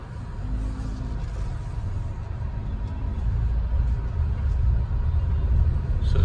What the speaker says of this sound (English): I'm going to go up the ramp to show you how the car is performing in the ramp.